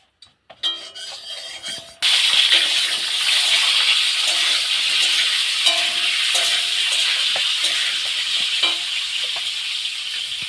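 Potatoes fry in a pan for aloo dum, a loud, steady broadband sizzle that bursts in after a quiet start with a few clinks, then continues with occasional scrapes and stirs.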